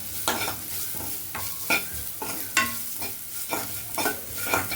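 Turmeric, garlic and spices roast in oil for rasam, a constant close sizzle broken by regular scraping strokes of a ladle across the pan, about one every second.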